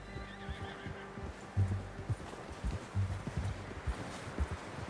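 Horse whinnying and clip-clopping hooves in a Western open-world video game, a faint neigh followed by irregular near hoof thuds over soft rustling ambience, with no talk.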